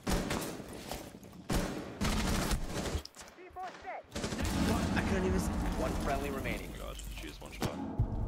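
Loud blasts and bursts of gunfire from a tactical shooter match, with a grenade going off amid the firing; a player talks excitedly over the repeated sharp impacts.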